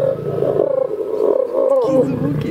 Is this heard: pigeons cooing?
no